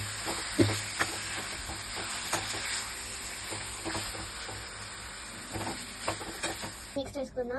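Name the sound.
chicken being stirred and fried for biryani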